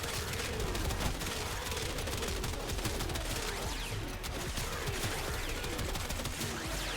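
A primary weapon fitted with Arcane Tempo fires in the Warframe game as a dense, relentless stream of rapid shots, loud and unbroken throughout, with no pause.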